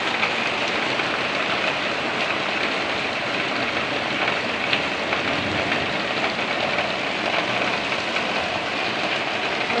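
Heavy rain pours down in Makati, a dense, steady hiss of water drumming on surfaces and a window, loud and unbroken throughout with no voices.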